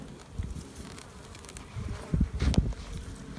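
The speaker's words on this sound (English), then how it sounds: "Full of bees." A steady, dense buzz of bees in a hive fills the space, close and continuous, with a few louder low thumps and swells near the end.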